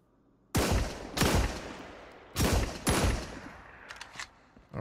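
Gunfire in the shooter game Marauders: four loud, booming shots with long echoing tails, two pairs about a second apart, followed by fainter distant pops.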